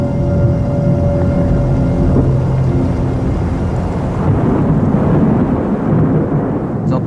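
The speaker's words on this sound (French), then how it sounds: "Vous entendez, on dirait des grands coups de tonnerre." Deep, continuous booming rumble like rolling thunder filling a Greenland fjord, loud and sustained without pause, with no voices over it.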